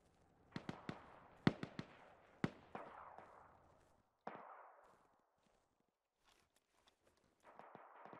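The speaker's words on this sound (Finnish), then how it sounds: "Tuolta Northwestistä kuuluu ammunta." Distant gunfire in the military game Arma 3: a quiet, irregular scatter of sharp cracks and pops with echoing tails, clustered early on, then sparse shots after a lull.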